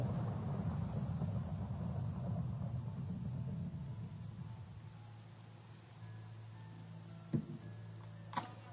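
Thunder from a lightning strike in Minecraft rumbles low and heavy over steady rain, fading out, followed by two sharp cracks near the end.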